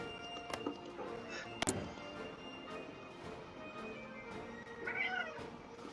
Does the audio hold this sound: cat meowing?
yes